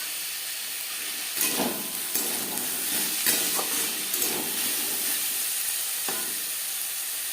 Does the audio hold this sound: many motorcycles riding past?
no